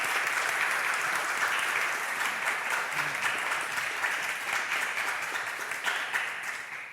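Sustained audience applause for panelists at a comics talk fills several seconds, dense steady clapping at even volume that tapers slightly at the end.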